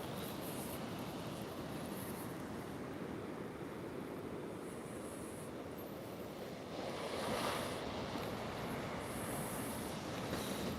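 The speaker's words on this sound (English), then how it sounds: "Got some beautiful waves breaking here in the sunlight." Ocean waves break and wash onto the sand at Half Moon Bay in the sunlight, a steady broadband roar of surf that swells louder near the end, with no talking.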